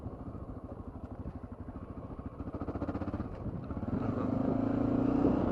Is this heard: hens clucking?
no